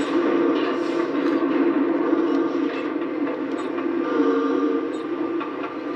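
A train in the video game Dead Space 3 rumbles steadily along, a loud continuous mechanical drone with faint clanks and rattles layered over it, heard alone without speech.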